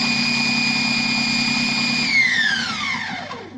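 A Compact Cook Pro food processor chops vegetables for soup in one steady, loud whirring burst that holds for about two seconds, then winds down as the motor stops.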